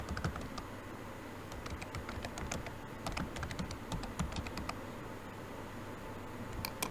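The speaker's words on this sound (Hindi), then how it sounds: "यहाँ पे मैं डोमेन नेम टाइप करूँगा" Rapid, light clicks of keys on a computer keyboard as a domain name is typed into a web browser, irregular bursts over a soft steady background hiss, faint and close.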